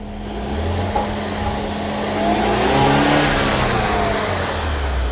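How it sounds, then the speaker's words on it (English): An Alfa Romeo engine with a white-smoke fault revs up steadily, its loud, smooth drone rising to a peak mid-way and holding near, with no talk over it. "Let's rev this one more time."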